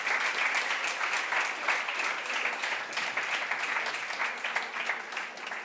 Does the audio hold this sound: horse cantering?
no